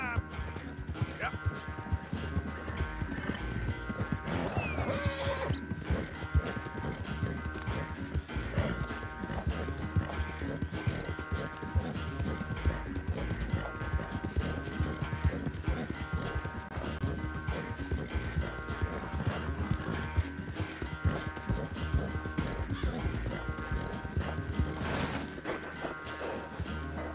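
Rhythmic hoofbeats of a galloping horse in the video game Red Dead Redemption 2, over a dense, steady game soundscape with music, continuing loudly throughout.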